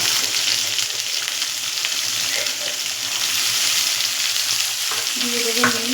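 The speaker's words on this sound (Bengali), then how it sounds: "এর মধ্যে আমি কটা ছোলা দিয়ে একেবারে ভেজে নেব।" Potato, onion and chickpeas fry in a pan with a steady, close sizzle, and a scrape of stirring comes near the end.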